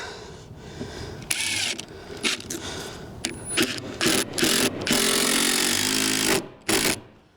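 A power driver runs a screw into plywood floor sheathing in short, loud bursts that stop and start, ending in a longer sustained whir, with no voices.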